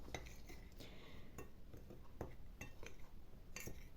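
Faint clinks and scrapes of a spoon stirring salted flounder pieces in a bowl, quick irregular taps against the sides, quiet and close.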